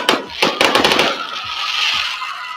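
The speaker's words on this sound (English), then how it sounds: "Look at them fireworks." Fireworks go off after a high school football game between Heritage Hawks and Darrington: a rapid series of sharp, loud bangs and crackles, followed by a fizzing, hissing tail.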